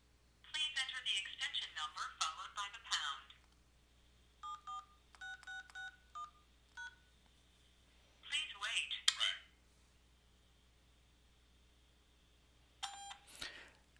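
Bursts of rapid touch-tone beeps as a conference call number is dialed on a smartphone, clustered runs of dialing tones separated by short pauses and a few longer single tones, clear and close in a quiet room.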